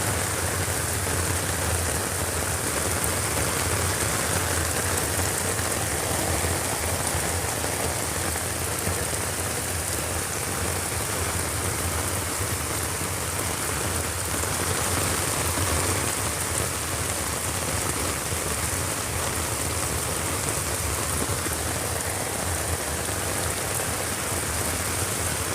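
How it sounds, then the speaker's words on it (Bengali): Heavy rain pours steadily in Chilahati, a loud, dense, continuous hiss of drops hitting the ground and surfaces with no pauses and no voices. "এখন চিলাহাটিতে বৃষ্টি হচ্ছে, চিলাহাটিতে বৃষ্টি হচ্ছে"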